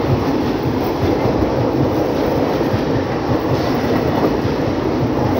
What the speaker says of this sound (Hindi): और ये है अमृतसर दरभंगा 15-12 जननायक एक्सप्रेस।